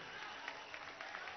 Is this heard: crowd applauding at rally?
yes